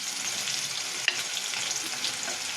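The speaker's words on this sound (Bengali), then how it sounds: "মশলাটা দিয়ে কষাবো" Spice paste sautéed with red-fried potatoes in a pan, a continuous bright sizzle and frying hiss with stirring scrapes and one sharp clink of the spoon partway through.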